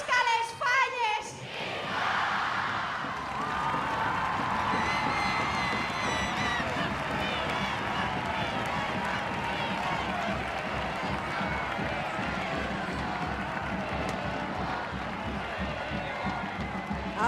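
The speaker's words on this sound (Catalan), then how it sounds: "Aplaudiments i ovacions per a la fallera major de València, Laura Caballero Molina." At La Crida 2011 in Valencia, a large outdoor crowd applauds and cheers the fallera major in a sustained, dense wash of clapping and voices, with a brief voice at the start.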